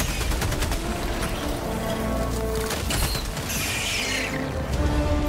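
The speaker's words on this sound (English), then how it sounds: "Machine gun." Rapid machine-gun fire in the video game Helldivers rattles continuously at high volume, dense sustained bursts with mechanical clatter and game effects layered over it.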